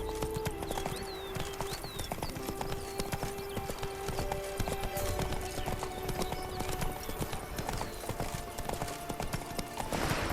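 Hooves of Geralt's horse Roach clip-clop in a quick galloping rhythm in The Witcher 3: Wild Hunt, loud and continuous over game music and ambient bird calls.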